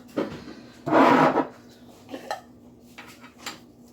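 A utensil scrapes and knocks inside a bowl while homemade body lotion is mixed, with one longer scraping stroke followed by a few lighter taps and scrapes, close to the microphone.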